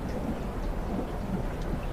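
Thunder from a thunderstorm along the south coast of KwaZulu-Natal, a continuous low rumble mixed with steady rain, fairly loud and unbroken throughout with no voices.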